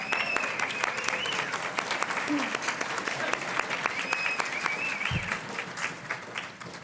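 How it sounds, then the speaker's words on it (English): A reunion luncheon audience applauds a standing class, a steady, full round of clapping from a large crowd that continues throughout without pause. "So give them a good hand when they stand up"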